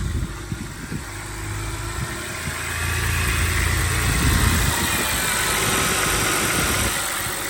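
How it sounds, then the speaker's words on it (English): BMW E90 N52 engine idling with a new drive belt, a steady close mechanical hum and vibration that swells slightly midway and holds even to the end. "drive belt is running good. The car is also running good."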